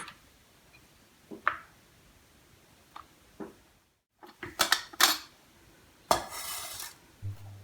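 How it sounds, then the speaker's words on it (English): A colander with a plate underneath is set down on a kitchen surface during bitter gourd preparation, giving a scattered series of hard knocks and clattering metallic clinks, a few sharp hits close together, with quiet gaps between. "now bring in a colander with a plate underneath, like this"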